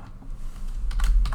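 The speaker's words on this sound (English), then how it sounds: "Let me just go here and type down email" Quick typing on a computer keyboard during Power Apps formula editing, a short run of close, crisp key clicks that grows busier toward the end, with no talk.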